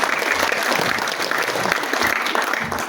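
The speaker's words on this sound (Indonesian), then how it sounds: "Kita berikan tepuk tangan untuk Pastor Elvin." Audience at an orchestra's 20th anniversary concert breaks into steady applause, a loud, continuous wash of many hands clapping from a large crowd.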